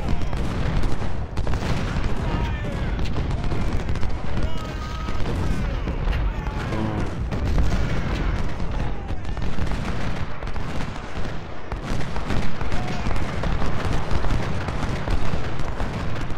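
Cannon and artillery fire from the Civil War strategy game Ultimate General: Civil War at Gaines Mill, a dense, continuous barrage of booms and crackling volleys with a voice speaking over it.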